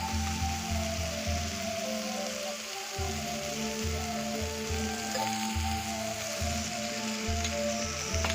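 Amrul greens with chili, cumin and coriander powders fry in a pan, a steady crackling sizzle running evenly throughout with a low rhythmic clatter underneath.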